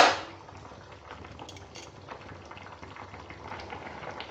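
Borar jhol curry bubbles gently in a pot on a gas stove, with a soft continuous simmer and faint clinks after a brief louder knock at the start, with no talking.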